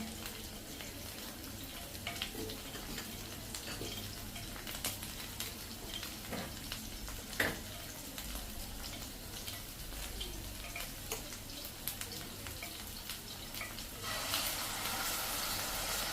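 Onion masala frying in oil in a kadai, a steady soft sizzle with faint ticking clicks of a spoon stirring, quiet and close, growing a little brighter near the end, without speech.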